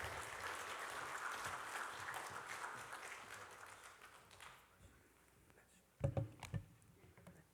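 Congregation applauding during a Sunday afternoon church service, a broad patter of clapping that fades out midway, followed by a few louder knocks and handling sounds nearby.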